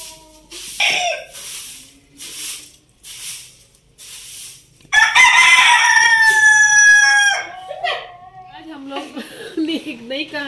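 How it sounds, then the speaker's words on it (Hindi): A hen clucks and squawks loudly up close, a burst of agitated calls following several short rustling or sweeping sounds, then softer clucks trailing off. "ये हमारी जो मुर्गी है"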